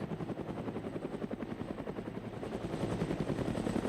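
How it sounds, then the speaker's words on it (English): Helicopter in the video game Arma 3 coming in to land, its steady rotor chop thudding continuously and growing slightly louder, heard alone without talk. "The helicopter's landing."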